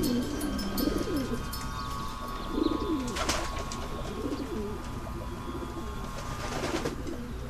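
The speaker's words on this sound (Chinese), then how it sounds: "可怜的小鸟" Birds coo and chirp close by, with repeated soft dove-like calls rising and falling against a steady background hum, and a few sharper chirps breaking through.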